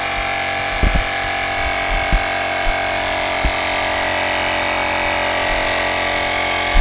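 A Sync Wire portable air pump inflating a tire, a steady loud whirring drone running throughout, with a few faint knocks near the start.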